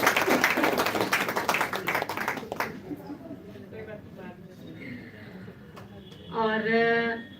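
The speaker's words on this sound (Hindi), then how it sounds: "तो तालियों से हम दीदी जी का आभार प्रकट करेंगे।" Audience clapping at an annual day celebration, a dense burst of applause that fills the first few seconds and then fades out as quieter talk continues.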